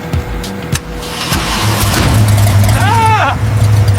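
Lamborghini engine found in a flooded garage starts up and revs, a low steady roar building in the middle and holding strong to the end, with a rising whine near the end.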